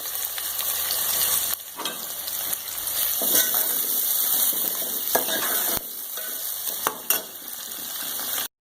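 Three medium sliced onions frying in hot oil in a pan, a continuous loud, close sizzle with a few clinks and stirring shifts, no voices.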